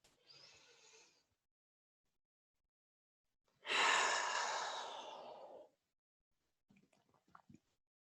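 Slow, deep breathing during a gentle side-stretching exercise: a soft inhale, then a long, fuller exhale several seconds later, with faint rustling movement afterward, close and quiet.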